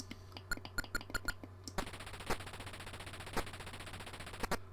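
Atari 2600 slot machine game: a run of quick clicking ticks gives way to a steady whirring drum spin, with a few sharper clicks punctuating it, all electronic and fairly quiet with no talk.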